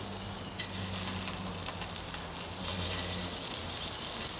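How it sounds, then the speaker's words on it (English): Sausages and small pork chunks sizzle steadily in a pan over a campfire, a continuous close frying hiss with occasional stirring and scraping. "we've got some sausages here, got some little chunks here. I'm going to start putting this inside now."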